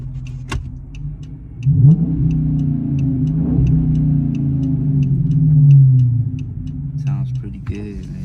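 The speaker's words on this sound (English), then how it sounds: "I'll throw it in neutral, give you guys some revs." A Dodge Hellcat engine idles in neutral with a deep rumble and is revved twice, the pitch rising and falling each time, while a steady faint ticking runs underneath.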